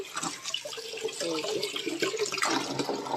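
Tap water runs steadily as items are washed under it, a close, continuous splashing and gurgling that swells in places, with faint speech now and then.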